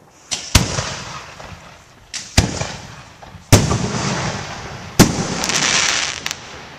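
Four-inch firework shells burst one after another, about four loud booms spaced a second or more apart. Each explosion trails into crackling and hissing that fills the gaps outdoors.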